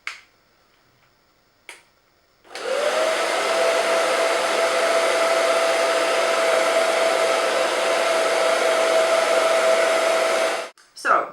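A hair dryer switches on after a couple of faint clicks, then runs with a loud, steady whine and airflow hiss for about eight seconds before cutting off.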